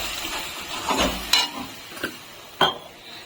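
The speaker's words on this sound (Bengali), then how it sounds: "এই মশলার মধ্যে আমি একটু জল দিয়ে দিচ্ছি জল দিয়ে ভালো করে কষিয়ে নেবো" Spice masala with turmeric, with a little water added, fried in a pan and stirred with a utensil for Kashmiri aloo dum: a soft sizzle broken by several distinct scraping knocks, close and without talk.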